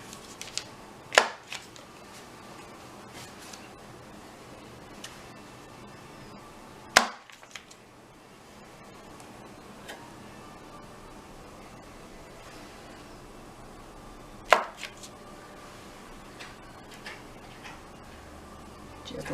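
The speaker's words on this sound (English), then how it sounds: "And now I'm just going to start cutting my butter." Sharp knife strokes slice through a block of butter on a board for croissant lamination, three distinct chopping taps spaced several seconds apart over a quiet room hiss.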